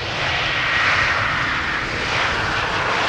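A Cargolux Boeing 747 cargo jet lands at Amsterdam Schiphol Airport, its engines producing a loud, continuous broadband roar that stays steady and close with no voices.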